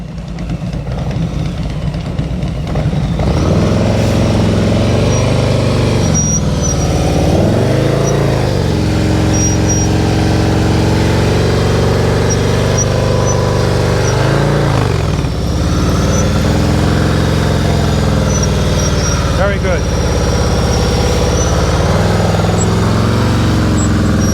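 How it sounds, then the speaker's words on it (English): A motorcycle engine idles and revs up and down in uneven surges as the rider works through advanced slow-speed riding practice, heard close and continuous with no talk. "You hear his engine goes up, down, that's fine."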